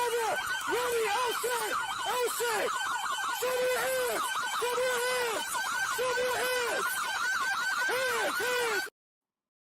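A wailing police siren cycles rapidly up and down in repeated yelps, loud and close, then cuts off abruptly near the end.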